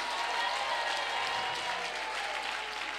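A church congregation applauds and acclaims during a service, a steady, dense wash of crowd clapping and cheering that holds at an even level from start to finish.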